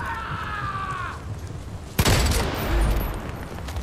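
A grenade explodes in Far Cry 5 zombie survival play, a sharp loud blast cutting in after a quieter stretch with a faint whining tone, then a heavy rumbling, debris-filled decay.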